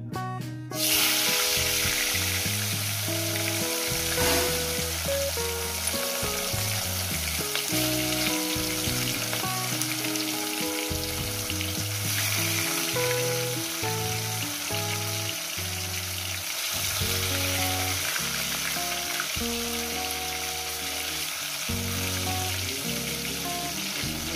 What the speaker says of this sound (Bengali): তেলটা আমার গরম হয়ে গেছে, মাছের পিসগুলো দিয়ে দেবো।